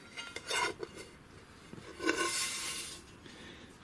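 A 10-inch metal spun cowling for an RC model scrapes and clatters as it is handled and flipped over, close by, ending with a sharp knock.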